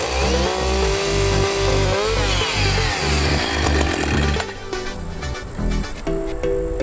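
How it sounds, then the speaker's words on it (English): Chainsaw running close and loud as it cuts through wood for a children's playhouse build, the engine holding a steady rasping drone with pulsing load changes before easing off in the final seconds. "I will gonna do all these cuts with chainsaw."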